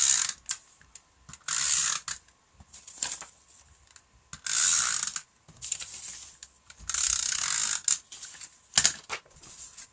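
Plastic clicks and ratcheting from a snail-style adhesive tape runner being opened and loaded with a refill cartridge, in short bursts of clicking and scraping separated by near silence.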